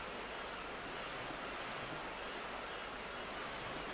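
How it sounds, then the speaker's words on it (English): Ocean waves and seagull ambience in the Second Life virtual world, heard as a soft, steady, continuous surf wash with no distinct breaks, faint and alone. "Should be the sound of waves and seagulls."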